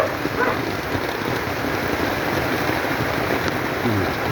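Steady rain patters continuously on surfaces outdoors, where white wood-ear mushrooms are being grown and harvested, a dense even hiss with scattered drop taps throughout.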